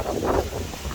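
A strong gust of Hurricane Nicole buffets the microphone outdoors, a loud whooshing rumble that swells and then eases over about a second, with no talking.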